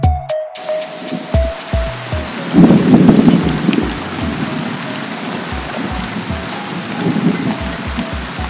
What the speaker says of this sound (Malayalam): പെട്ടെന്നാണ് മഴ പെയ്തത്.